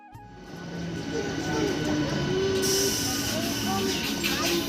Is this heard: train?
yes